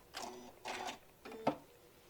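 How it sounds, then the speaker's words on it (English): A home sewing machine stitches across ribbon on fabric at a quarter-inch seam, running in three short bursts with brief pauses between them, close and fairly quiet. "putting it back on my 1/4 inch, and just stitching across and going over that ribbon"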